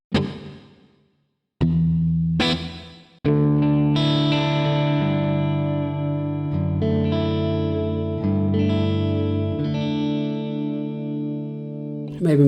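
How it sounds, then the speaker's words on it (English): Electric guitar run through a Headrush MX5 with a medium plate reverb, sustained chords ringing out with a lush tail after a few sharp strums, loud and alone with no talking. "I'm just going to go with 11 reverb, medium plate"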